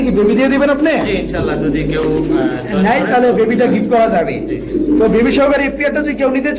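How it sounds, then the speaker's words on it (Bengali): Danish pigeons, a male and a female with a young chick, coo repeatedly in soft throaty bursts, close by, while people talk over them. "ডান পাশে মনে হয় নর কবুতর আর এই বাম পাশিটা মাদি কবুতর সাথে একটা বেবি রয়েছে"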